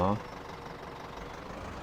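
A tractor engine in Farming Simulator 2017, on the Sosnovka map, runs as a steady, low, rumbling drone at an even level after a short tonal sound at the very start.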